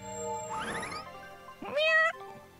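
A cat in the video game Tales of Berseria meows twice, a drawn-out wavering mew and then a louder, sharper meow, with no talking over them.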